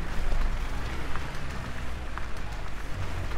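A rainstorm in an off-road driving game set in a Kalimantan forest, giving a dense, loud, steady rush of rain.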